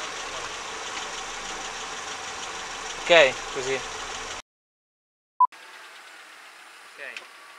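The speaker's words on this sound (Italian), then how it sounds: "Allora, motore gira." A car engine idling on a film set, a steady mid-pitched running hum under brief talking, cut off by a gap of silence before resuming more faintly.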